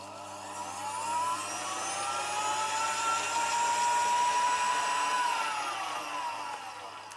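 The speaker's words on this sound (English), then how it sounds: "And now we can just lower this whisk. And we want to beat this for about 5 minutes until this is light and fluffy." An electric stand mixer whisk beats a butter and sugar mixture for vanilla cupcakes: a continuous whirring motor hum with a faint whine that swells through the middle and eases off toward the end, with no voices.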